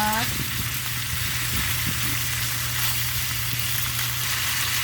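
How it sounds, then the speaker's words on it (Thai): Sliced Korean radish stir-fries in a hot pan, giving a steady sizzle with a low background hum and occasional scraping stirs. "ผัดคลุกเคล้าให้เขาเข้ากัน"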